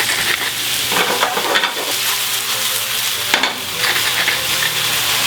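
Spinach and mushrooms sweating in a pan with salt and pepper, a continuous close sizzle with periodic stirring bursts, loud and steady with no voices.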